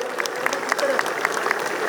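A festival crowd applauds in a continuous outdoor patter of many hands, with sharp individual claps standing out throughout.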